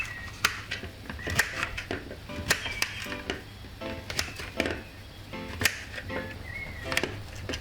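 A knife dicing pumpkin on a cutting board, giving a rapid irregular series of sharp chopping taps, close and fairly loud, with no talking.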